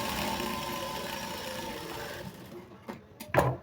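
A sewing machine runs steadily through blouse fabric for a couple of seconds, then slows and stops, leaving a few short clicks and knocks at close range.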